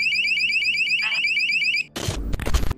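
An electronic alarm in a haunted forest at night chirps in a rapid repeating electronic pattern, then cuts off and gives way to a loud rustling thump and noise.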